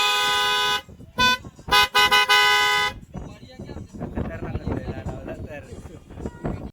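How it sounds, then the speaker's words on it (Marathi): Loud horn blasts at a busy Mumbai market, one long toot then several short bursts, followed by crowd noise and people talking nearby. "क्रिएटरचा हॉर्न एकदा चेक करा"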